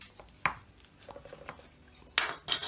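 A Humbrol paint pot lid is pried open with a bulldog clip: a few faint metallic clicks and scrapes, then a couple of sharper pops as the lid comes free, close and quiet.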